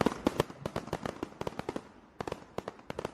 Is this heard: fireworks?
yes